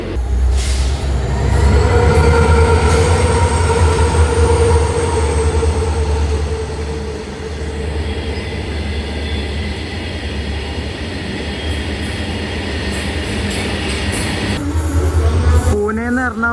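The Pune to Ernakulam Poorna Express, hauled by a WDP4D diesel locomotive, approaches. It makes a loud, continuous engine drone with steady tonal hum and rolling rail noise, and a brief wheel squeal comes near the end.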